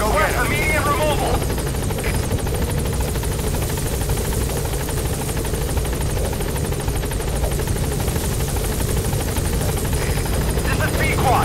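Helicopter in Metal Gear Solid V hovering as it tries to land at a blocked landing zone, a loud, steady rotor and engine drone that lasts throughout, with radio-style speech over it.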